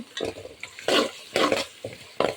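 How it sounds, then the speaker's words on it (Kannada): Onions, curry leaves and green chillies with turmeric being fried for lemon rice: a spatula stirs and scrapes the pan in several separate strokes, each bringing a burst of sizzling, close and fairly loud. "ಇದಕ್ಕೆ ಅರಿಶಿನ ಹಾಕಿ ಚೆನ್ನಾಗಿ ಫ್ರೈ ಮಾಡಿ ಫ್ರೆಂಡ್ಸ್"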